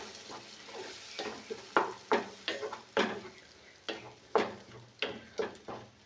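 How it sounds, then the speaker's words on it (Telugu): Tomato juice mixture frying in a pan, a low steady sizzle broken by repeated stirring scrapes and clicks of a utensil against the pan, roughly every half second, close and fairly quiet. "టమాటో జ్యూస్ని ఇందులో పోసుకొని దీన్ని కూడా బాగా వేపుకోవాలన్నమాట."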